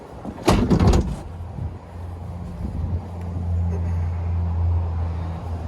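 A quick clattering knock and scrape as the livewell hatch opens at the stern of a 2020 Scout 300 LXF boat, followed by a low, steady motor-like hum and faint background rumble, close and brief with no voices.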